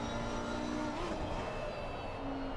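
A race car in the Assetto Corsa Competizione racing game downshifts and engine brakes into a corner, its engine droning loud and steady with harmonic pitch shifts as the revs drop, no voices over it.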